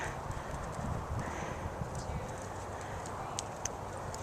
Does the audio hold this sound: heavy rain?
no